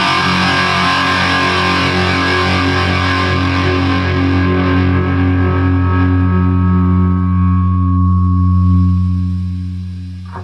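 A distorted electric guitar chord rings out and slowly decays over about ten seconds, its upper overtones thinning while a sustained tone swells slightly with faint feedback near the end; no talking.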